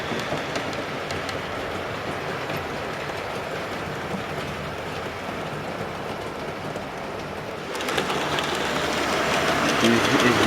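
A model railway locomotive running along the track on a layout, a steady close mechanical whir and rumble with faint clicking that grows slightly louder toward the end.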